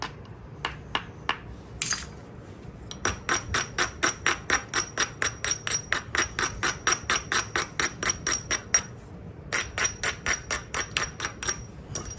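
Long series of crisp, ringing hammerstone strikes knapping Texas rock, a few scattered taps first, then rapid regular blows, close and clear.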